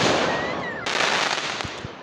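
Fireworks going off outdoors: a continuous hiss and crackle of bursts, then a sharp bang and a couple of booming thumps, fairly loud.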